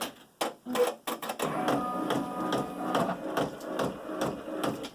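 A computerized embroidery machine stitches a canning jar applique, running steadily with a dense, rapid mechanical chatter and sharp clicks at the start, close and alone throughout.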